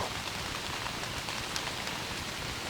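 Steady rain falling on the tree canopy in early-season woods, a dense, even hiss of pattering drops with no pauses, close and enveloping.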